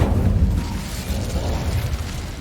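A fire spell, Incendio, cast in Hogwarts Legacy, heard as a heavy whooshing burst that rumbles on in a thick, roaring flame sound with no voice over it.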